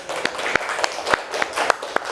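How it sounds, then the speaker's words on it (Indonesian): Scattered claps and a light patter of applause from a small group at an elementary school, close by, with sharp individual hand claps standing out. "Tepuk tangan dong."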